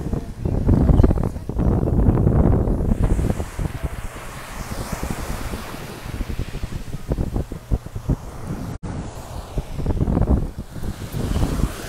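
Sea waves breaking at the water's edge with strong gusts of wind buffeting the microphone, loud surges easing and returning across the stretch, no one speaking.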